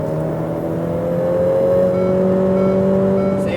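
A Ferrari F8 engine pulls hard on a racetrack, a loud, steady droning whine that climbs slowly in pitch as it accelerates, close and continuous with no talk.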